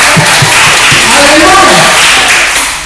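A church congregation applauds during a worship service, a dense, loud wash of clapping that carries on steadily with voices rising over it.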